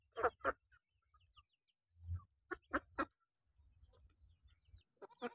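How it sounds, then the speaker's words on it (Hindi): Chickens and ducks gathering to be fed leftover food, giving short bursts of clucks and quacking calls, close but soft, with quiet shuffling and pecking between the calls. "देखिए मुर्गी को दे रही हूँ, लेकिन मुर्गी से पहले तो ये लोग बत्तख ही आ गए"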